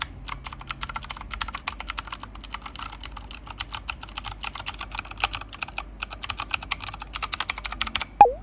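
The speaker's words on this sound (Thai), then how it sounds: "ผมก็ถือวิสาสะตรงนี้ให้ฟังเสียงคีย์บอร์ดไปเลยก็แล้วกัน" Continuous typing on an EGA Type K4 mechanical keyboard with blue switches, a rapid, irregular stream of close, clicky keystrokes that quickens toward the end and finishes with one louder key strike.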